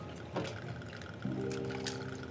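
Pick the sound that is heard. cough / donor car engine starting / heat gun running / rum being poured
rum being poured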